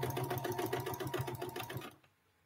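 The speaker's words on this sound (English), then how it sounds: "let me sew this minky here" A sewing machine stitches minky fabric in a fast, steady mechanical chatter for about two seconds, close and clear, then stops abruptly.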